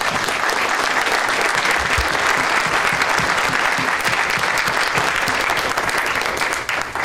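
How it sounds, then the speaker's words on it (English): An audience at a legislative community event gives a sustained round of applause, a thick, even roar of many hands clapping close and loud throughout, with no speech over it. "if you could join me in a round of applause"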